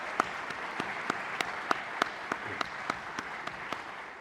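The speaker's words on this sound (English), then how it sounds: "Let's give the Castiliers a round of applause." An audience at a Berks County anniversary kickoff event applauds the Castiliers, a steady wash of many clapping hands with a few sharp, closer claps standing out at fairly regular intervals, moderately loud throughout.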